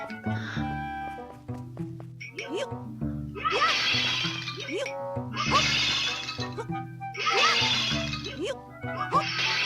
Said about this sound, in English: Did I break all his vases?